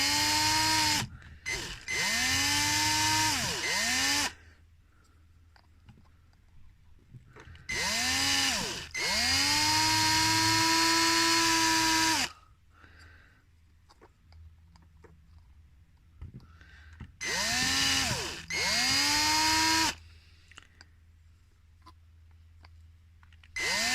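A power drill bores into a plastic shoulder part for a robot build in three separate bursts, each with a rising whine as the motor spins up, then settling into a steady grinding before stopping, with quiet gaps between.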